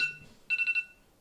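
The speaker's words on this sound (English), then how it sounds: "Sorry, that's my alarm." A phone alarm goes off with a short burst of bright electronic chiming, a quick pulsing ring of three or four beats that stands out clearly against quiet room noise.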